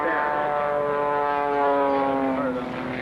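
An Extra 260 aerobatic airplane's propeller engine drones loudly and steadily in flight during an airshow display at Oshkosh, its pitch sliding slowly as the plane maneuvers.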